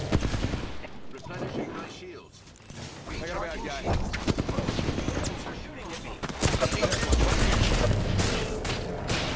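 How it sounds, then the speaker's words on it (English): Enemy gunfire in the Apex Legends video game, dense bursts of shots and rapid automatic fire crackling close by with game effects and a voice talking over parts of it. "They're shooting at me."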